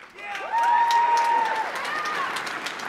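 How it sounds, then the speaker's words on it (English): Crowd applause and cheering at a university commencement ceremony for award recipients, a broad steady wash of clapping that swells early and holds, with a voice calling out over it. "Please give these award recipients a rousing round of applause."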